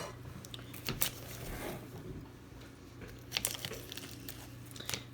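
A knife trims the ends off a cucumber in a few quiet, crisp cuts separated by soft handling sounds, with no talking.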